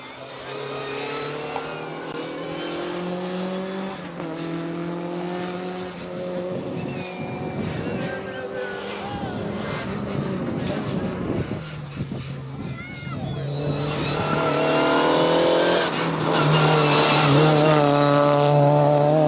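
Rally cars on the Vigo-Nigrán stage of the 55th Rallye Rías Baixas roar past one after another, engines revving and shifting, the loudest pass swelling near the end.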